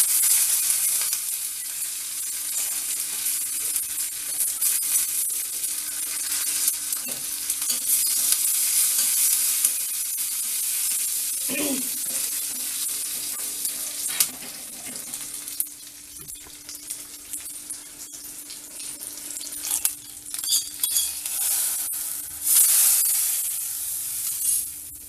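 Cumin seeds and curry leaves frying in hot oil in a pan for rasam, a steady close sizzle with occasional stirring clinks, no talking.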